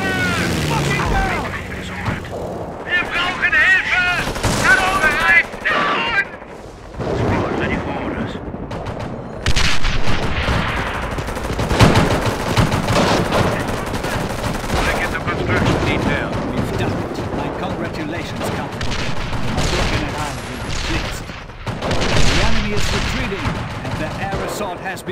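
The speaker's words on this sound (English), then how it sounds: "Airdrop SD-2 butterfly bombs have been deployed." SD-2 butterfly bombs bursting amid rattling gunfire in a Company of Heroes World War II battle at Oosterbeek: loud, dense crackling shots and scattered heavy blasts run throughout, with soldiers shouting and talking over the combat.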